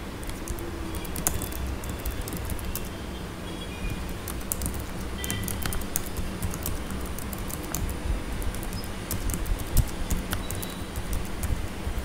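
Computer keyboard typing a short message, a steady patter of soft key clicks at close range running unbroken for about twelve seconds, with no voices over it.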